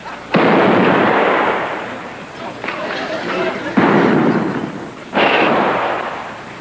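Gunshots in a 1959 Western comedy film, several loud, booming reports spaced a second or so apart, each trailing off in a rumbling echo.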